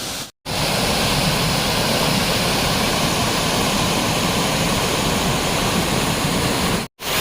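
A waterfall on a hilltop at Maredumilli, heard as a steady, loud, dense roar that holds unbroken for several seconds, cutting out briefly at both ends.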